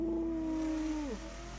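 An old BMW E39 5 Series engine held at a steady rev, then dropping off as the throttle is released, a close, smooth tone that fades.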